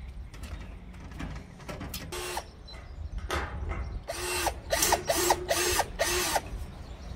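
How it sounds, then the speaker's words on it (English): A power drill bores starter holes into a board while mounting a Tapo C310 security camera, with several short bursts of whirring spaced across the clip and nearby handling noise between them. "we'll make a couple of starter holes, then we'll screw that board in"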